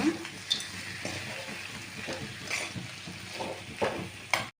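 Potato filling for dosa is stirred in a hot pan: a soft background sizzle is broken by intermittent scraping and tapping strokes of a spoon, fairly quiet and close, with no talking, ending abruptly.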